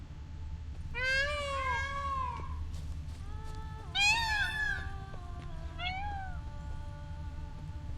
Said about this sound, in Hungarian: Itt azt mondom, hogy macska nyávok.